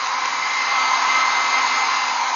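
A blow dryer roars steadily and loudly up close while drying a dog after a bath, a constant airy whoosh with no pauses.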